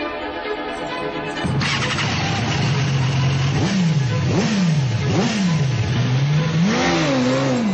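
A motorcycle engine fires up and idles loudly up close, then revs repeatedly in rising and falling swoops, each throttle blip climbing and dropping back with a throaty roar.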